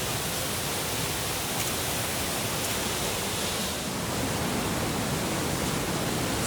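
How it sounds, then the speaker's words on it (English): Rushing waterfall on the Bolaven Plateau in Laos, a dense, continuous roar of falling water close by, steady and broadband with no voices over it. "I don't think this is actually Tadfiak Waterfall, this is another one."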